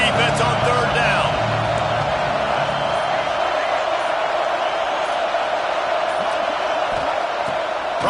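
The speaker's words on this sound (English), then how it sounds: "Decibels rising as the crowd gets behind this defense on third down." A college football stadium crowd roars steadily, a dense sustained wall of noise that never lets up, with a commentator talking over it during the opening seconds.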